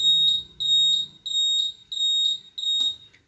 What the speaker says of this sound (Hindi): इस साउंड को हम बजर के हेल्प से सुनते हैं